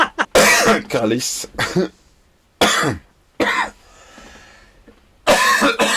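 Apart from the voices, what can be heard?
coughing fit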